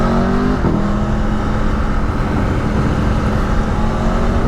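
A 2022 Aprilia Tuono V4 Factory motorcycle accelerates hard on a commute, the V4 engine note loud and close, climbing in pitch after a quick gearshift and holding a strong sustained roar.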